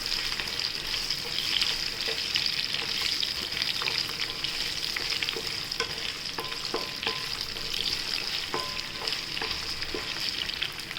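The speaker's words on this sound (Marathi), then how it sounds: "मोहरी तटरली आपण बटाटे घेतले ते टाकूया आणि आपण थोडंसं परतून" Potatoes sautéing in hot oil with spluttered mustard seeds for green masala poha, a continuous close hiss with scattered light clicks and scrapes of stirring throughout.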